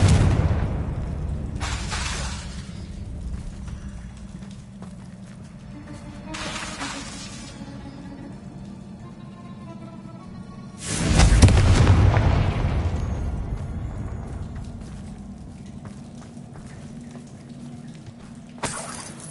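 Confringo spell blasts burst in Hogwarts Legacy, several loud booming explosions spaced seconds apart, the biggest one around the middle, each decaying into a rumbling tail.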